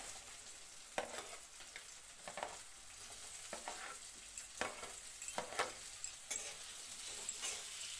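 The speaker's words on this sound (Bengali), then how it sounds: "পেঁয়াজ রসুন একসঙ্গে ভালো করে ভাজা করে নিতে হইব।" Onion and garlic fry together in a pan with a soft, steady sizzle, broken by repeated light scraping and tapping from stirring at irregular intervals, fairly quiet overall.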